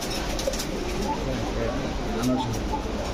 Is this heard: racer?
yes